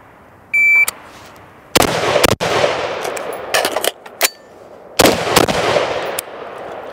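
Pistol shots in a timed shooting drill, started by a shot timer beep, then several loud sharp cracks in quick pairs and clusters spread over a few seconds, with no voices.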